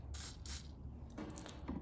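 Two short hissing bursts of aerosol spray, close by, sprayed into a bolt hole while removing a rusted blower wheel, followed by quieter mechanical clicking and rustling.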